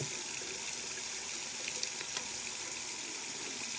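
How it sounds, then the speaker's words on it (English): Water runs steadily from a sink tap over a pair of hands being wetted for handwashing, a continuous close splashing stream with no pauses and no voices. "we'll just start with running some water through"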